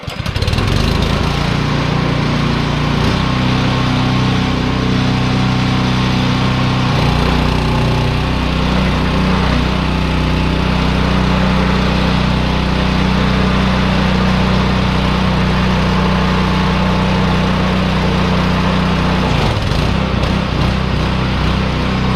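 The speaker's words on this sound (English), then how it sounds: "I just back up the tractor" A tractor engine runs steadily at close range, a loud, even mechanical drone that holds through most of the stretch before dipping briefly near the end, with no talk over it.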